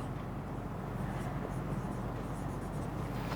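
A pen scratches steadily and close over paper while someone writes by hand, a soft continuous rasping with a low hum beneath it.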